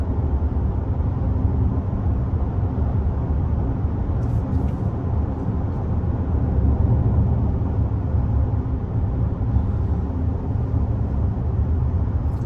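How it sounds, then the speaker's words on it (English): A 2024 Mazda CX-90 Turbo Premium Plus accelerates on an open road, heard as a steady, loud low rumble of engine and road noise that holds at an even level throughout, with no talking. "I'm going to accelerate through it and hope there's no police"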